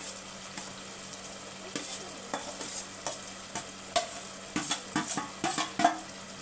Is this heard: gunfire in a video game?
no